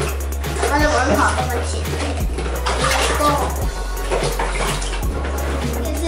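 Water runs from the tap of an Anpanman plastic toy bucket, a steady close splashing trickle mixed with knocks and clicks of plastic, while a voice speaks faintly underneath.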